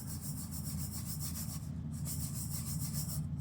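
Nigella and carom seeds are mixed together by hand, giving a soft, continuous rubbing and rustling, faint and close, with no voices.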